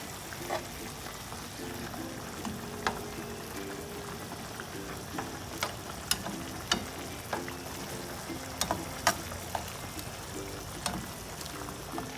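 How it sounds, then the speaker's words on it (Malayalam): Shrimp frying in a pan for shrimp Alfredo, a steady bubbling sizzle with sharp crackles and pops scattered throughout, close up and moderately loud, with no talking. "അപ്പോൾ ഷ്രംപ് ഒരു സൈഡ് ഫ്രൈ ആയിട്ടുണ്ട്."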